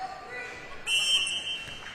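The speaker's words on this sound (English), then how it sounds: "And we'll get a whistle." A referee's whistle blows once, short and fairly clear, over the faint hall ambience of a high school junior varsity volleyball match in a gym.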